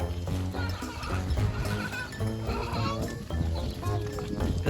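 A baby goat at a dairy farm petting zoo bleats repeatedly in short wavering cries, close and fairly loud, with other farm animal calls and faint people in the background.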